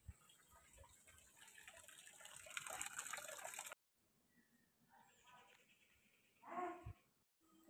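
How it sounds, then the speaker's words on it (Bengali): A household tap runs steadily with a broad gushing rush, then is turned off abruptly; a softer trickle and brief splash follow, with no talking. "সব জলটা বন্ধ করি, জলটা ভরে গেছে।"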